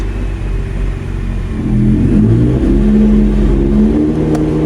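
A 2010 Nissan GT-R engine revs gently in manual first gear, a loud, steady rumble that rises slightly in pitch and swells midway, with no talking.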